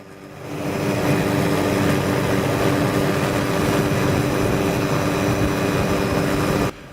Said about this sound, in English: Two massive twin-rotor CH-47 Hawaii Army National Guard Chinook helicopters airlifted some 100 tons of fence panels, poles, and associated equipment